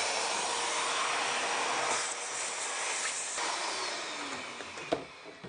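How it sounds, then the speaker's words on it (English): A steady, airy whoosh of a vacuum cleaner picking up sanding dust runs continuously at moderate volume, with a brief knock near the end. "I'll grab the vacuum cleaner."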